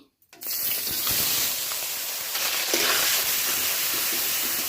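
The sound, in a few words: paneer frying in potato-frying oil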